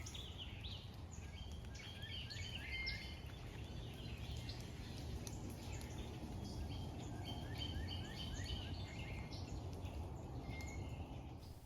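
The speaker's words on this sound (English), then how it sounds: "in the woods, just listen to the symphony of bird songs" Migratory woodland birds such as summer tanager and hooded warbler in East Texas woods sing in a steady overlapping chorus of chirps and trills, moderately distant over a low rumbling background, with no talking.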